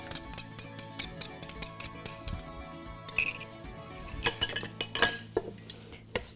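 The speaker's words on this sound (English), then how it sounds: "Just stir that in just to make sure you don't have any clumps." A spoon stirs tomato paste and red wine into a lamb stew in a pot, giving close, irregular clinks and scrapes of metal against the pot with quiet gaps between them and a busier flurry near the end.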